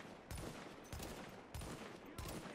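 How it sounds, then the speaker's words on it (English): Gunfire in the video game The Division: four quiet, evenly spaced bursts of shots, each a brief broadband crack with a short tail, heard faintly and alone. "Oh no, now he's gonna be shooting my way."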